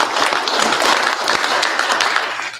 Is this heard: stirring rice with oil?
no